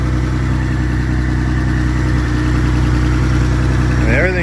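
Mitsubishi 3000GT drift car engine idling with quiet lifters, a loud, steady, smooth rumble close by, with a brief voice near the end.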